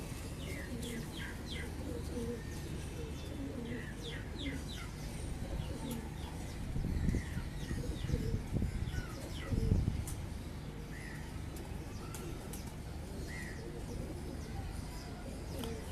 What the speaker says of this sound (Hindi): ब्रीडर कबूतर।